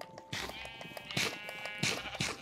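Sheep in the Minecraft video game bleat in short wavering calls, several overlapping bursts repeating at close range over a steady faint background.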